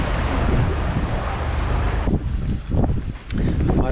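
Strong wind buffets loudly in gusts on a boat at anchor off Naxos, then drops away to about 9 knots, leaving quieter rushing air with a voice briefly audible.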